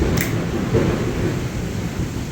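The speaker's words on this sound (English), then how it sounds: "Man, can you guys hear that thunder?" Thunder rumbles outdoors in a deep, loud, rolling wash that fills the whole stretch, with a faint sharp crackle near the start and no talk.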